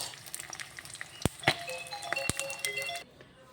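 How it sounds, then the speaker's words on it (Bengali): Fish fries in a pan with a low, steady sizzle that stays quiet and close. A few sharp utensil clicks and knocks break through before the sound drops away near the end. "মাছগুলো ভাজা হয়ে গেছে, এখন নামিয়ে নেব।"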